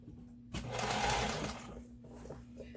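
A sewing machine stitches elastic onto a maxi dress in a short, steady whirring burst that starts suddenly, holds for about a second, then trails off into quieter mechanical ticking.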